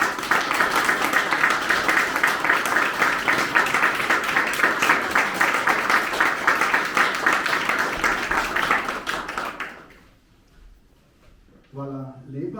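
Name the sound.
audience applause at an exhibition opening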